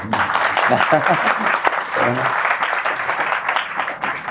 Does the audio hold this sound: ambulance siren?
no